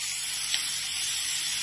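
Carrot and cabbage sizzle steadily in a hot pan with mushrooms, a bright continuous frying hiss at close range with a tiny pop partway through and no talk.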